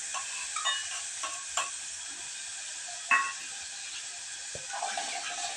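Onions fry in a pan with a quiet, continuous sizzle, broken by a few brief clinks and scrapes of stirring, one sharper knock midway.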